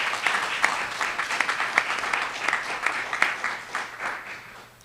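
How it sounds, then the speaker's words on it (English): An audience applauds at a Veterans Day ceremony in Union Township, a steady wash of clapping from a roomful of people that holds for several seconds and then begins to fade. "please give them a round of applause because they deserve it"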